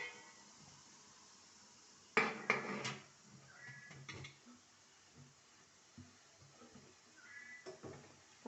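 An idli steamer cooking masala kadubu is shut with a loud burst of metallic pot clatter, followed by a few lighter knocks and clinks in an otherwise quiet kitchen.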